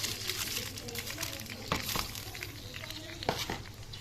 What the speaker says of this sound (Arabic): هنزل بالرز بتاعي وهقلب الرز بتاعي كده لغايه ما الرز بتاعي يسخن خالص